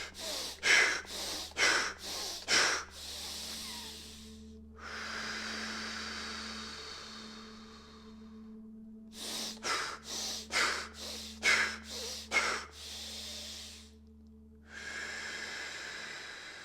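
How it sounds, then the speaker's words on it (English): A person practises a breathing exercise: a run of quick, forceful snorting breaths through the nose, then one long slow inhale and a longer exhale, followed by another burst of rapid breaths and a final slow breath, close and clear. "It's more fast, dynamic breathing, followed by one slow inhale and exhale."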